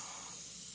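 Spray gun applying chrome yellow paint to a Mustang, a steady broadband hiss that runs evenly and close through the whole short burst, with no voices.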